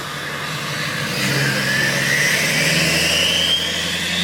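Duramax diesel dually truck revving hard during a burnout, a loud, sustained engine roar that climbs steadily in pitch as it winds up, close and continuous with no talk over it.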